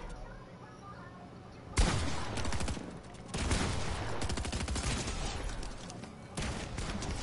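Rapid bursts of automatic gunfire in the video game Fortnite, loud and close. Several sustained volleys are broken by short gaps.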